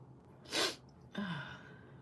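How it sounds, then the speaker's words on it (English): One sharp, close sneeze bursts out, followed a moment later by a short breathy gasp or exhale, in an otherwise quiet indoor room with no talk. "And I gotta sneeze."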